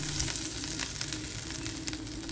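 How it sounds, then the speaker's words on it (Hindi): Hot oil tempering with paprika hits a pot of kadhi and sizzles loudly and steadily, a dense crackling hiss that stays close and constant for a couple of seconds with no voices. "तो बस अब इसका हम कड़ी पे लगा देते हैं तड़का।"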